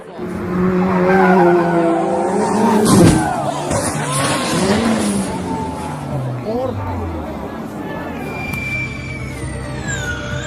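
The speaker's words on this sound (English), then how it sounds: "Look at the water, just hit a puddle. Massive puddle." A Formula E race car ploughing through a massive puddle during a race, a loud close roar and hiss of spray and engine whine sweeping past, with excited commentary and crowd chatter over it.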